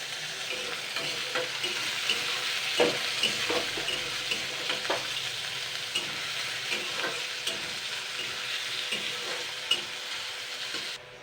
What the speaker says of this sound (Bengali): এবার আমি সর্বপ্রথম কিন্তু আলুটা ভেজে নেব ফ্রাই করে নেবো